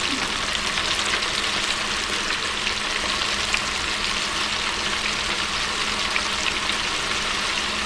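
Remora fish frying in hot oil gives a steady, loud, close hiss and crackle that holds without a break.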